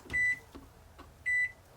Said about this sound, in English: even this newer RCA microwave, which, by the way, has power